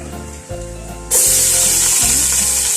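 Onions are dropped into hot oil for shrimp mahjboos, and a quiet pan bursts into a loud, steady sizzle that holds close and strong to the end.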